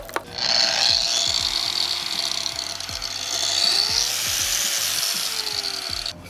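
An RTC angle grinder fitted with a diamond blade cuts through hard porcelain with a shop vac attached, giving a steady, loud high-pitched grinding whine that holds for several seconds and swells slightly near the end, with no voices.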